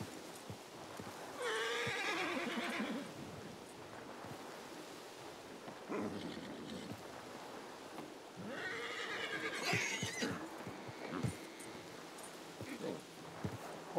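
A horse in Red Dead Redemption 2 lets out two loud, wavering whinnies several seconds apart, with hoof clops and thuds in between, close and clear.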